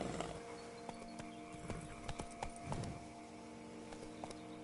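Horse Roach from The Witcher III walking, with steady clip-clop hoofbeats over a constant ambient game background, moderately close and alone without talk.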